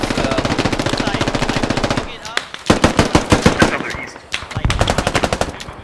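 Rapid automatic machine gun fire in the tactical shooter game Squad, a sustained stream of shots followed by shorter, louder bursts, close and dominant with faint voices underneath.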